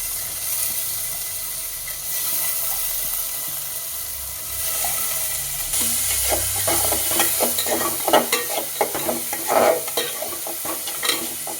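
Washed lentils hit a hot pan and are stirred, a quieter sizzle that swells into louder bursts of splashing and scraping as the spoon works through the mixture; no speech.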